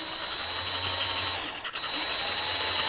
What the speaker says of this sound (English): as you pull the trigger very gently, you want this thing to spin, not real fast, you're just going to sand